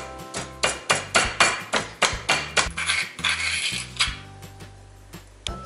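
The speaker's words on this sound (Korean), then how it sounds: "마늘 세쪽 다져주세요" A knife chops three garlic cloves on a cutting board for Korean rice cake soup, a quick series of sharp, close, rhythmic taps that slow and thin out toward the end.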